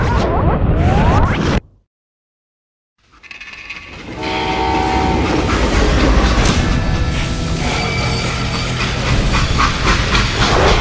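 A freight train in the Call of Juarez: Gunslinger video game sounds its horn and rumbles along loudly, with a brief silent gap early on before the dense, steady rolling noise returns.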